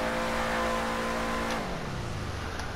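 A Canis Freecrawler off-roader in GTA Online accelerates without a turbo, a loud steady engine drone with a buzzing harmonic tone that drops abruptly in pitch partway through, like a gear change, then keeps pulling.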